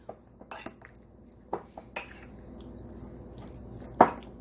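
Utensil stirring creamy pesto chicken bucatini in a pan with lemon dill butter, giving scattered clinks and scrapes against the pan, including one sharper knock near the end, over a quiet wet background.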